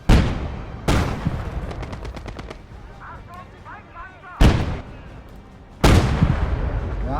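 Heavy anti-tank rifle shots boom in a video game battle, four loud separate blasts with long ringing decay over constant battlefield noise.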